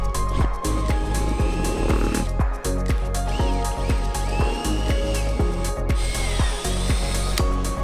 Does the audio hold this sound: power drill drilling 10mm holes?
yes